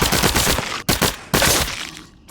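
Rapid bursts of gunfire from a weapon in The Walking Dead VR game, loud and close, in three sustained volleys broken by brief gaps and ending in a short tail.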